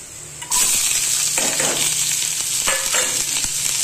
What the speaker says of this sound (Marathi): आणि दुसऱ्या गॅसवर इकडे हा याचा मसाला भाजून घेते। कांदा खोबरं